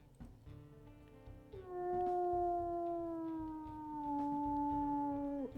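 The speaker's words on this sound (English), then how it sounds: "We'll listen to her howls too." A gray wolf in the video game WolfQuest lets out a long, clear howl that slides gently downward, sustained for several seconds and loud against faint background sound.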